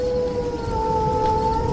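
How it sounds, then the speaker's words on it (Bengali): A jackal's long, sustained howl holds a steady wailing pitch over a low background rumble of wind and rain. "চারপাশে শুধুই হাহাকার করা বাতাস আর শিয়ালের ডাক।"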